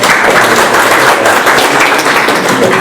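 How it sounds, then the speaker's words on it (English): A crowd at an event applauds continuously, a dense, loud wash of clapping hands that holds steady throughout with no distinct voices on top. "can we just do a round of applause for those guys?"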